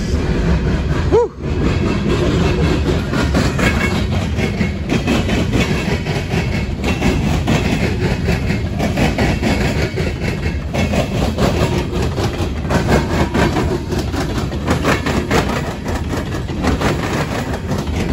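CSX and Norfolk Southern freight trains roll across rail diamonds in Marion, Ohio, a continuous loud rumble of wheels with rhythmic clatter and banging as the cars pass over the crossing.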